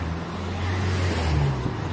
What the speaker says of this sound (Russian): Тут же едут машины.